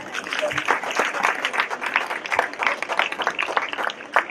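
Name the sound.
audience applause after a skit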